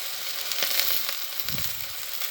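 A seasoned steak frying in a pan, cooked to medium: a steady, bright sizzle with crackling spits and a few pops, close and continuous, with no talking.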